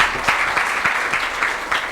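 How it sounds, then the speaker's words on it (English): Round of applause from an audience at an awards ceremony honouring professional excellence, a dense steady patter of many hands clapping throughout with no voices over it. "I think you all reserve a round of applause."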